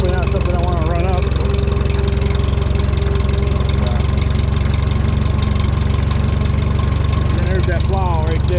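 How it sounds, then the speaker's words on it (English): A tractor engine runs steadily and loudly close by while climbing a hill, its governor opening up slightly under load, giving a continuous low, rumbling drone throughout. "listen to the governor open up a little bit when you're going up a hill"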